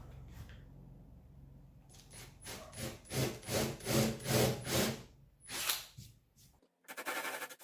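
A wood drill bit bores into MDF in a run of close, rasping grinding bursts that swell and fade in steady pulses. The sequence ends with a brief, sharper whir.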